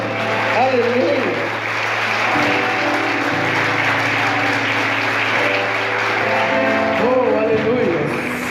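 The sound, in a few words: congregation applauding in church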